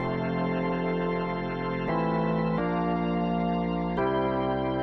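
Sustained organ-style synth chords for a drum and bass track, thick and distorted with chorus and echo, shifting through several chord changes at a steady loud level with no voices.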